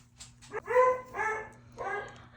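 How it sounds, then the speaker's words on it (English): A dog barks repeatedly in the background, three spaced, moderately loud barks with a whiny, yelping edge over a low steady hum, with no speech. "there's a dog barking in the background, but he's always barking in the background"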